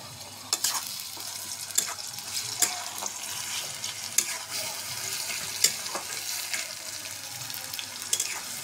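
Softened onion with ginger, garlic and onion paste frying in a pan for a small-fish curry: a faint, steady sizzle broken by occasional stirring scrapes, close by with no talk.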